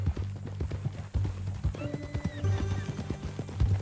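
In Red Dead Redemption 2, a horse neighs in a drawn-out whinny mid-stretch while hooves clip-clop in an irregular rhythm, fairly faint, with a voice speaking briefly.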